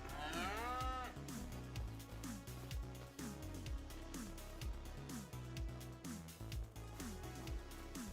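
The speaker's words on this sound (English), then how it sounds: "I guess we bred enough cows." Several cows mooing in the Farming Simulator 25 game, with repeated drawn-out moos overlapping at a steady pace, fairly close, with no talk.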